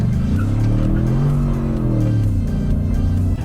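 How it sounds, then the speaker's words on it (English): A 2021 Ford Bronco engine pulls hard under throttle after a downshift, its loud steady drone rising and then easing over a few seconds, heard from inside the cabin with no talking. "rolling onto the throttle, you instantly get boost, and then even just half throttle, downshifted enough from 4th to 2nd"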